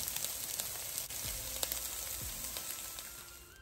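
Minced beef bolognese sauce sizzles steadily in a pan, with soft scraping stirs breaking through the constant crackle, close up and without talk.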